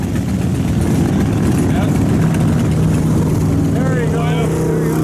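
A loud Harley-Davidson motorcycle rumbles along the road through Spearfish Canyon, a deep steady engine drone close by with a voice talking over it.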